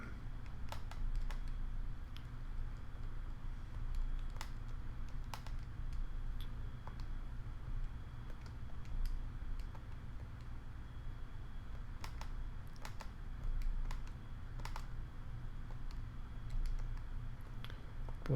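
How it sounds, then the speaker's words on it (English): Keys tapped on a calculator while entering a math expression, a quiet run of light clicks spread irregularly over a steady low background hum, with no voices. "You go ahead and type that in your calculator as I do,"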